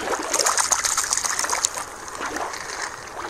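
Water splashes and trickles close by as a toy squid is dropped back into a play bin of water, with sloshing, dripping sounds that taper off over a few seconds.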